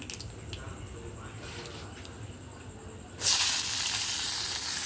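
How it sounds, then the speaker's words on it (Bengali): Black cumin seeds dropped into hot oil in a Bengali home kitchen, bursting into a sudden loud, bright sizzle that keeps on steadily after a stretch of quiet background. "এই যে এখন দেব কালো জিরে ফোড়ন দিলাম"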